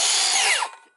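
A Milwaukee M18 brushless 7 1/4-inch circular saw cuts through wood with a loud, close, high whine that holds for about half a second, then winds down and fades as the blade spins to a stop.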